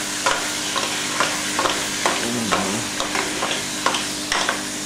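Vegetables for pinakbet stirred in a hot pan, a continuous sizzle with regular scraping strokes of the spoon roughly every half second, close and loud with no talk.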